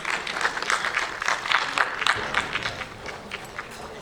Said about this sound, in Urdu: آپ سب کی تالیوں میں.